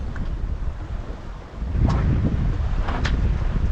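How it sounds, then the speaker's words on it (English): Wind gusting over a sailboat on open sea, a loud, steady roar buffeting the microphone with a stronger surge midway and faint water and hull noise underneath. "the constant wind just batters your face"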